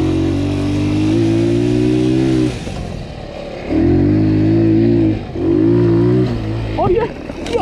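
A scooter engine revs loudly in repeated bursts with a slipping clutch, each steady droning rev cut by short gaps during off-road enduro riding, ending in a rising whine.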